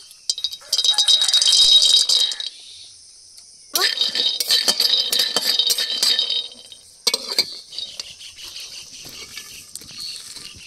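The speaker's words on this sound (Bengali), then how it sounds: "এবার শাক ভাজার জন্য শুকনো খোলায় কটা চীনা বাদাম ভেজে নেব।" Peanuts dry-roasting in a dry pan, rattling and clinking loudly in bursts as they are tossed and stirred, with short quiet pauses between.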